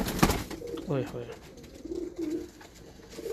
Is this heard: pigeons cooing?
yes